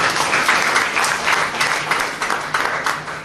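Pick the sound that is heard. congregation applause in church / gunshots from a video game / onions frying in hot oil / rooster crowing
congregation applause in church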